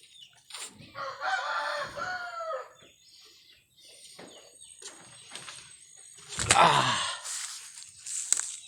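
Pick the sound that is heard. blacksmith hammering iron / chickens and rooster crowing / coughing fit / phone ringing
chickens and rooster crowing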